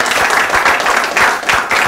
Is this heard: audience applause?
yes